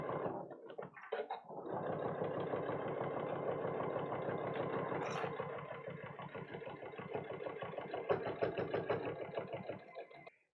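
Sewing machine stitching along a seam on a zippered case's lining, a close, steady rapid whirring run of needle strokes that starts after a few handling noises and slows to a stop near the end.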